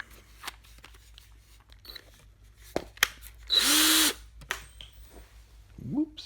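A power drill bores into wood while a carpenter bee trap is being built, giving one loud, sustained burst of about half a second amid scattered knocks and handling clatter, then quiet.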